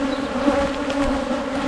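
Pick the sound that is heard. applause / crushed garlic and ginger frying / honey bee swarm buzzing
honey bee swarm buzzing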